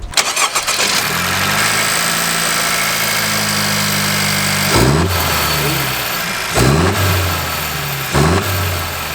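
A 10th-generation Honda Civic Si engine, fitted with a new intake and motor mount, cranks and catches, settling into a steady idle, then is revved sharply three times with short pauses between blips.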